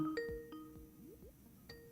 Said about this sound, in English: Let me lower the sound of the bell